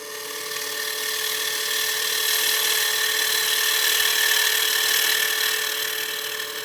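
A sharp tool cuts a wooden cake stand on a wood lathe, making a smooth, continuous high whine that swells slightly and stays close and loud without chatter.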